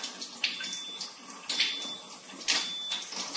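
Water flowing strongly from the hose of a Kangen water unit, a steady close splashing stream with a few sharper surges, like running tap water into a sink.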